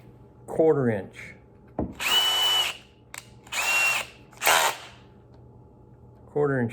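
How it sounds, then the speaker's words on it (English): Quarter-inch bit in a power drill boring during a camera antenna install, two sustained whining runs and a shorter burst separated by pauses, with brief speech and handling clicks between. "Quarter inch drill."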